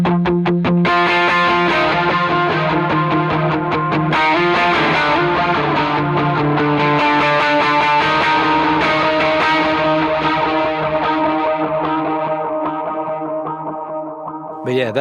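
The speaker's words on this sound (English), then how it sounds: "you can get more of a clear sort of echo with the Brig into that" An electric guitar runs through a Brig delay pedal, ringing out sustained chords with clear repeating echoes that stack up, stay loud and steady, then trail off at the end.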